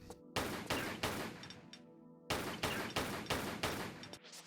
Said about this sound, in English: From here, Laura can pull out her pistols.